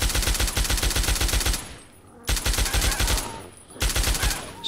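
Rapid automatic gunfire from a powerful gun in the video game Fallout 3, three loud sustained bursts separated by short pauses, close and alone with no talk.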